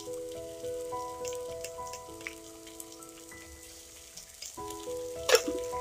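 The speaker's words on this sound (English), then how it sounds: "we need to fry this well till the ginger garlic paste raw smell goes off" Onions and ginger garlic paste fry in a pan for an Andhra chicken curry, giving a soft, steady sizzle and crackle up close, with one brief louder spatter near the end.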